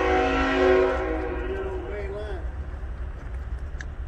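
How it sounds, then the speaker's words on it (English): A train horn sounds a long, sustained blast that fades out, followed by a low rumble of a train approaching in the distance. "that may be another train coming in on that other line"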